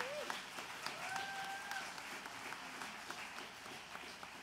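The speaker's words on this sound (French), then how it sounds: "Plein d'applaudissements à Daniel pour sa magnifique animation ce soir" An audience applauds steadily at a cabaret show. The clapping is sustained and even throughout, with a couple of brief whistle-like tones early on.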